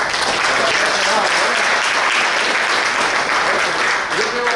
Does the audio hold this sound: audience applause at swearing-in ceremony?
yes